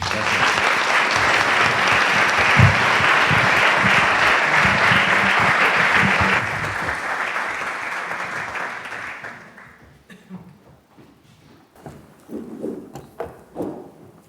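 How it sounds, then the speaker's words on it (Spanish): Sustained audience applause at a talk on Zen Buddhism, a loud dense clapping crowd for several seconds that thins out and fades, followed by a few scattered sounds and faint voices. "le damos un aplauso"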